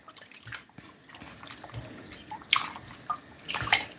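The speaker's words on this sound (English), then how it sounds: "I like to wash off this a bit." Salted fish rinsed under running water in a kitchen, soft trickling and splashing with a few sharper drips and spatters near the end, no talking.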